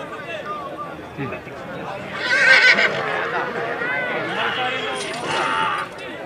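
Horse neighing at a horse pulling contest in Gilau, Romania, a whinny rising amid crowd chatter and nearby voices, with faint hoof clatter in the background.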